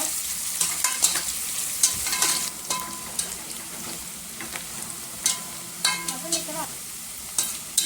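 Onions fry in a pan until brown for a vegetarian soya chunks biryani, a steady close sizzle broken by sharp scrapes and clinks of a spoon stirring against the metal, with no talking.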